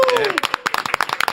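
Studio audience on a Korean talk show claps to greet a guest, a quick burst of dense, close applause with a voice sliding over its opening moment.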